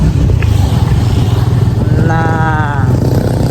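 Motorcycles pass by a riverside spot in Montalban, Rizal: a steady engine drone with a rising, whining tone that swells for under a second near the middle, plus a brief voice.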